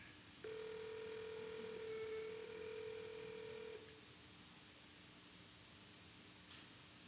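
A single electronic telephone ring tone sounds for about three seconds, then fades into faint line hiss, with a brief blip near the end.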